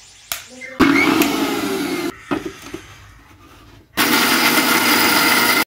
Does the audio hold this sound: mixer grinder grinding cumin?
yes